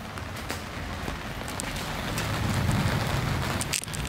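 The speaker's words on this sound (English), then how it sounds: "It's raining now." Early-morning rain falling outdoors, a steady patter with scattered sharper drops that grows slightly louder, with no voices.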